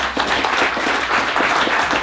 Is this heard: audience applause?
yes